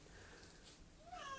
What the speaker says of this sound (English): Let's hear that meow.